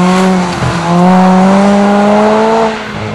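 A Ford Fiesta rally car loses control and spins on a stage of the 2006 Rally Deutschland, its engine droning loud and close with a steady pitch that dips and rises, with brief tyre noise.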